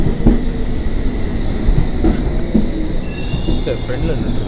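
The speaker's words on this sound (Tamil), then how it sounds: "அது ஒரு ட்ரெயின்." A London Underground train at the platform, with a steady rumble of carriages and rolling wheels close by, then a sharp, high metallic wheel squeal rising over the last second or so, with faint background voices.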